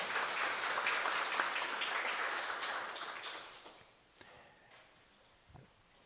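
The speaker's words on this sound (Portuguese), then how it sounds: "Vamos aplaudir a poderosa palavra de Deus" Church congregation applauding after a scripture reading, a dense burst of clapping that fades over about four seconds into a quieter room with a few scattered taps and small noises.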